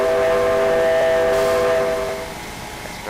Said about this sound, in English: You got the whistle. This is probably a nice whistle as well.